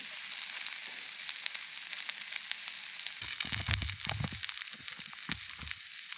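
Squirrel meat sizzling in a cast iron pan over a campfire outdoors in winter, a steady bright crackling hiss, joined midway by louder bursts of popping and spattering with low thumps as the meat is moved.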